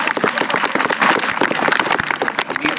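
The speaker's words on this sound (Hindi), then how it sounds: "सभी बच्चे जो आप अपने लिए भी ताली जो है वो बजाएं" A group of schoolchildren clapping for themselves at the end of a class session, dense overlapping hand claps sustained for about three seconds, fairly close and lively with no talk over it.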